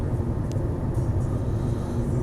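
Citroen Xantia 2.0 automatic with hydropneumatic suspension driving along a country road, heard as a steady low rumble of engine and road noise from inside, continuous and unbroken with no voices.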